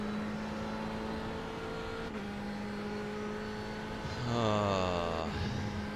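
In a racing video game an LMP1 prototype race car passes on the left, its engine climbing sharply in pitch as it draws alongside over the steady drone of the player's own car, loud and close for about a second.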